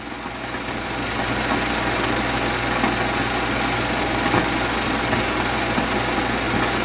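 A 1950 Allis-Chalmers WD-45 tractor pulls away after being unhitched from an implement, its engine a loud, steady, rough drone that continues unbroken throughout with no voices.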